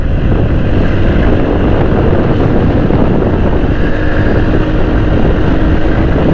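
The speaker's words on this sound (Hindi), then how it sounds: "बहुत तेज़ भगानी पड़ रही है मेरे को मोटरसाइकिल।" A motorcycle is ridden fast along the Northern Bypass road toward Sohrab Goth. Loud, constant wind rush buffets the microphone, masking any engine note, and no one speaks.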